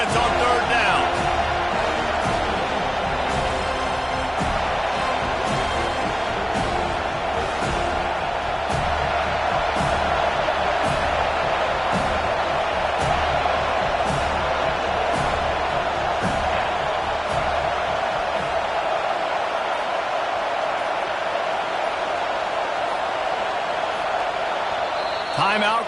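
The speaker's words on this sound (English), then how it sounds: "Decibels rising as the crowd gets behind this defense on third down." A college football stadium crowd at Oklahoma versus FSU roars for the defense on third down, a dense sustained wall of cheering under a commentator's voice talking throughout.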